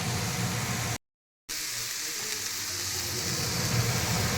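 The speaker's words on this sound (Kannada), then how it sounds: "ಸ್ವಲ್ಪ ಕ್ಯಾರೆಟ್ ಫ್ರೈ ಆದಮೇಲೆ" Carrots frying in a pan for a vegetable paneer roll make a steady, close sizzle that cuts out briefly near the start and then carries on evenly.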